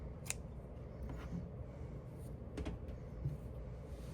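Scissors snipping crochet yarn, two or three quiet, sharp cuts spaced apart in a hushed room, no talk.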